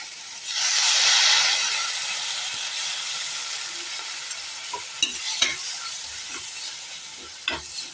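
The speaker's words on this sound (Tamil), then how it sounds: "ஒரு 2 நிமிஷம் வதங்கட்டும்" Ingredients for a mushroom pepper fry hit a hot pan with a loud hiss of sizzling and steam that gradually settles into a softer fry, punctuated by a few clinks of a spoon stirring.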